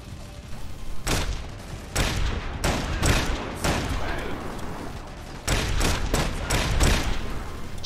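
Fortnite gunfire comes in rapid bursts of loud, close shots, with clusters of sharp reports separated by brief gaps over a busy game backdrop.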